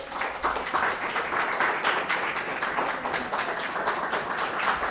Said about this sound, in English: Another round of applause for all of the presenters.